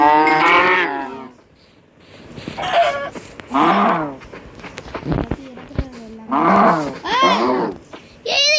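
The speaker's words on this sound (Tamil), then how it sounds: "என்னோட மாடு." Cattle moo repeatedly in a video game, drawn-out bellowing calls in several bursts with short pauses between them.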